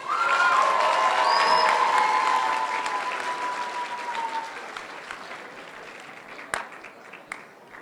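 Strong applause with some cheering rises from the crowd at an eighth grade promotion ceremony, starting loud and gradually tapering, with a few sharp claps near the end.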